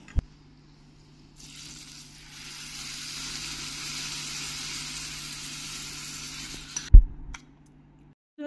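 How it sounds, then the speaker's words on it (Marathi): Hot spice tempering of seeds and asafoetida is poured onto homemade yogurt, giving a sudden hissing sizzle that holds for several seconds. A sharp clink of a utensil follows before the sizzle stops. "आणि आता ही फोडणी मी त्या दह्यावर घालते"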